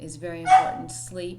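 A dog yips and barks briefly in a home, mixed under and around someone speaking, a couple of short close bursts.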